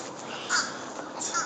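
Crows caw outdoors on a winter day, giving a couple of harsh calls at a moderate distance over steady broadband background noise.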